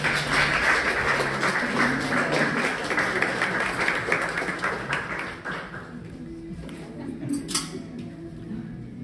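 Audience applause at a fashion presentation for designer Axel Hardy, a dense wash of many hands clapping that holds steady for about six seconds, then thins and fades.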